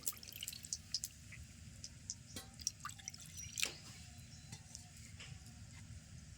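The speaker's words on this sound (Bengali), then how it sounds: "একটা বাটিতে দিয়ে দিচ্ছি জল" Water poured into a bowl in a home kitchen while cooking a cabbage dish, heard as soft, close drips and light splashes scattered over a quiet background.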